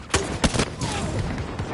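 Incendiary rounds crack out in several sharp, loud bursts of gunfire in a Battlefield 2042 match, close-up shots spaced unevenly over a busy, rumbling battlefield background.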